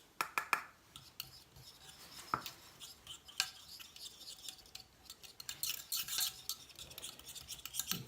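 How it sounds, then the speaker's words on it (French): New whisks scrape and rasp around a saucepan while melted shea, monoi and coconut body butter is beaten to emulsify it, making steady close metallic stirring and scratching with irregular louder clinks. "Ça, c'est mes tout nouveaux fouets que j'ai acheté là."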